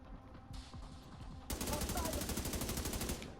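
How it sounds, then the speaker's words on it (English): Rapid automatic gunfire in a video game, a dense stream of repeated shots that grows louder and faster partway through, with a voice faintly underneath. "Am I getting shot from behind?"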